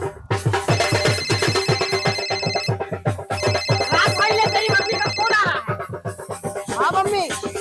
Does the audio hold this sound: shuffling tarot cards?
no